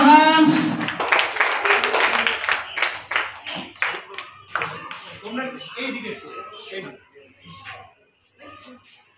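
A crowd claps at a school prize announcement for a competition, a burst of applause mixed with voices and a call at the start, thinning to scattered claps toward the end.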